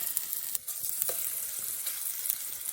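Sweet potato pieces frying in a spoon of ghee on an iron tawa, a steady close sizzle with a few scraping stirs and clicks of a utensil, no voices.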